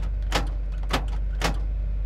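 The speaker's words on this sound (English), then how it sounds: "Power door locks." Power door locks on a 1984 Chevrolet Blazer 4x4 actuating: three short, sharp mechanical clunks spaced about half a second apart, close up over a steady low engine idle.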